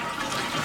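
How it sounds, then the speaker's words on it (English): Gravity-fed household toilet flushing as the old valve and flapper are about to be replaced, a loud close rush of water that fills the brief moment with no voices. "We're going to flush it."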